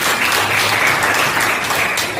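A dense, steady round of applause from a mathematics class of students, loud and close, continuous for a couple of seconds without a break.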